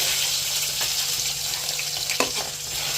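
Onions sizzling in hot oil in a pan for a pasta dish, a steady loud frying hiss with a few stirring scrapes and clinks, close and uninterrupted.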